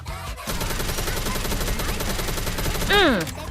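A gun fires in Goddess of Victory: NIKKE, a steady stream of rapid close shots, ending with a rising whine.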